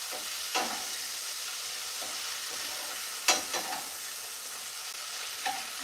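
Bacon fries in a pan with a continuous soft sizzle and hiss, broken by a few brief louder crackles and pops, with no talking.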